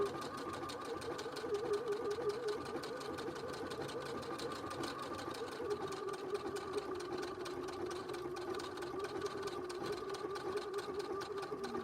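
Steady, continuous whirr of a sewing machine stitching a hearts zipper purse, running loud and close throughout with a rapid mechanical rhythm and no pauses.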